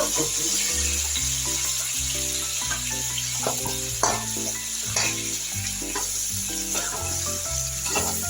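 A fish head frying in a pan for a lentil and fish-head dish, with a steady hiss running throughout and occasional stirring scrapes and clinks, loud and close.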